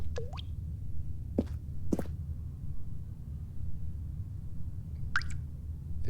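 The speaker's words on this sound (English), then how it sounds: "It's just dripping. What do you want me to do about it?" Water dripping in The Stanley Parable: a few separate drops plop at uneven intervals over a steady low hum, each one short and fairly clear.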